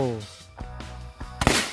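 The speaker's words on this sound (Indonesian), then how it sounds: "Yang selanjutnya ini kita nyalakan mercon magic ball" A voice briefly at the start, then a few faint pops from a magic ball firecracker before one loud close blast near the end.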